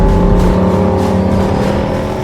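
A Jeep Wrangler 392 V8 engine droning steadily while driving, a loud, dense and continuous rumble with no pauses, heard close up.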